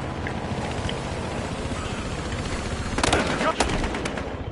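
Gunfire in the video game Battlefield Hardline, a few sharp shots cracking out in quick succession over a constant rumbling background of game noise.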